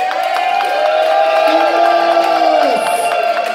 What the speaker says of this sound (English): A round of applause for Spike and Gabriel, everybody